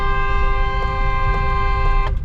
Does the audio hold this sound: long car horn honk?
yes